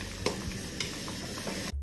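Vegetable gravy with fried pieces stirred in boils in a pan, making soft continuous bubbling and sizzling with a few faint clinks, close and quiet.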